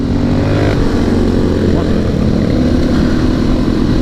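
An old DR 640cc motorcycle engine drones loudly and steadily at close range for the whole stretch, a thick rumble that holds its pitch with no clear rise or fall.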